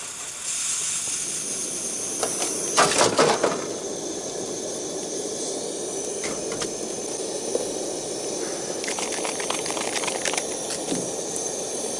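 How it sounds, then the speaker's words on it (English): A camp stove's priming fire burns with a constant, close roaring hiss on a winter campout, with a few brief metallic clinks and rattles breaking through the steady rush. "Start the priming fire."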